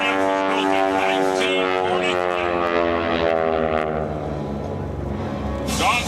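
A 1943 North American propeller airplane weighing 5,000 pounds performs at an Eglin AFB airshow, its engine a loud, steady, tonal drone throughout that swells slightly near the end.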